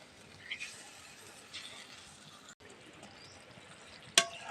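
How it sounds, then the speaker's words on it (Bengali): Posto ilish, hilsa fish in poppy seed paste, simmers as it is stirred gently in a pan, a soft, faint sizzle with a few light scrapes, quiet overall, ending in a sharp clink of utensil on pan. "এবার কিছুক্ষণ ধরে একটা জাল দিয়ে দেবো, আর খুব আস্তে আস্তে নাড়া দেবে।"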